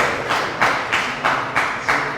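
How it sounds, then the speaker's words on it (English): An audience at the 2023 Jomo Kenyatta University student association inauguration ceremony claps for newly installed student leaders, with a crowd's applause pulsing in a steady rhythmic beat, no talk over it. "You can clap for them, it's no problem."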